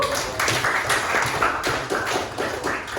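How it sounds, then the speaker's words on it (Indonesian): Students in a classroom guidance session clap together in a quick, rhythmic pattern, with dense bursts of hand claps repeating at a steady pace and filling the room at close range. "Bagus, saya kasih tepuk tangan."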